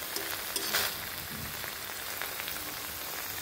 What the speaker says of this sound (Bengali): সরিষাটা হালকা একটু ভাজা ভাজা করে নেব